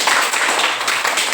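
Hands clap quickly and repeatedly in a classroom exercise, a dense close patter of claps with little pause.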